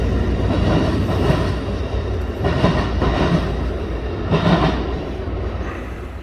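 A train rumbles steadily close by, its wagons clattering in a rhythmic clickety-clack with occasional wheel squeal.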